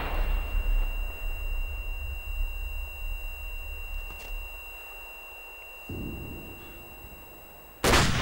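An AT4 rocket launcher fires on a training course: a sudden, very loud blast cuts in at the very end after a long stretch of steady outdoor rumble and faint electronic tones.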